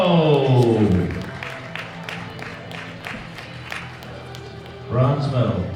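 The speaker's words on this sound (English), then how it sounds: "Round of applause for Andrei" An audience applauds a bronze medal powerlifter at a world open powerlifting championship, a steady bed of clapping and crowd noise beneath amplified announcer talk.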